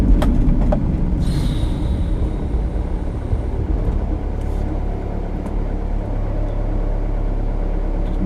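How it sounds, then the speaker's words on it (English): A big horse lorry rumbles past on a road, a steady heavy low drone of engine and tyres close by that holds for several seconds with faint rattles on top. "big horse lorry."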